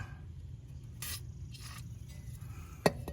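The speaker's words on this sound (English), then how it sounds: "Must be rusted out, so spray it." Two short bursts of aerosol lubricant spray hiss onto a rusted shear pin on a snow blower over a low rumbling background, followed by a sharp metallic tap.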